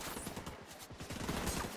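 Rapid bursts of gunfire crackle through a firefight in The Division 2, a dense run of close shots packed into under two seconds with no talking.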